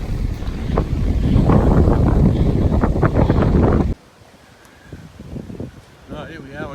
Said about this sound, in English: I don't want to record now because of the wind